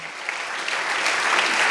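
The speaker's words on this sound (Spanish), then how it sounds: "Dele aplauso fuerte al Señor." A church congregation breaks into loud, dense applause, many hands clapping together in a sustained close burst that swells slightly toward the end.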